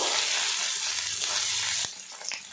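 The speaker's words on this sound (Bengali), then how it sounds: "আরও কিছুক্ষণ ভাজা ভাজা করে নেব।" Spice masala with chopped tomato and soybean fries in a pan, a loud steady sizzle that drops away near the end, followed by a couple of soft stirring knocks.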